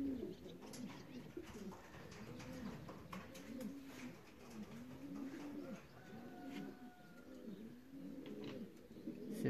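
A racing pigeon at a loft during a club race from Sieradz coos in a steady repeating rhythm of soft, rolling low calls, fairly close, with faint background chirps and no talking.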